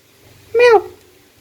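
A person's voice imitates a cat's meow, one short rising-falling mew, loud and close, against a quiet background.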